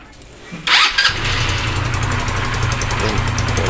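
An Easyride 150N motorcycle cranks with a quick whirring burst, then the engine catches and settles into a steady, loud, close idle with a rhythmic putter.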